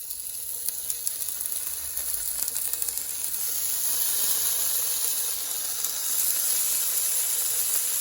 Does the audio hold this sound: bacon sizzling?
yes